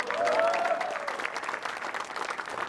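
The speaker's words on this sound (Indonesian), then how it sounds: "Tepuk tangan dulu dong." An audience applauds at an Indonesian stand-up comedy show on Metro TV, a fairly quiet, even patter of clapping that swells briefly at the start and then continues steadily.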